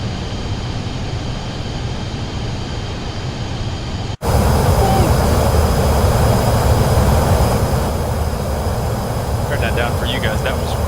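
Steady, loud aircraft engine roar inside the cockpit of a PC-24 business jet in a flight simulator game, continuous throughout with a brief dropout partway, and faint talk underneath.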